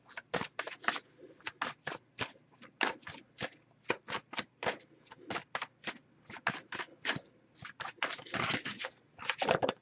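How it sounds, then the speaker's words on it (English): Tarot cards are shuffled repeatedly in quick, crisp bursts of riffling, close by, with brief pauses between riffles. "if I shuffle for a while without anything coming up, I'll just move on to the next deck"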